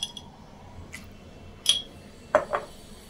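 A spoon clinks against a bowl while adding melon seeds for an oats and chia seed pudding, a few sharp metallic taps spaced apart over quiet background.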